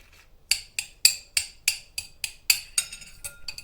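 A knife chops through food on a cutting board during home meal prep, about ten crisp, evenly spaced cuts ringing out close and clear against near silence.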